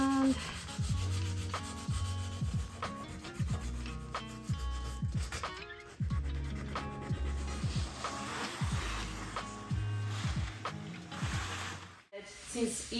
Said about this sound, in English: Then I sanded the wood filler.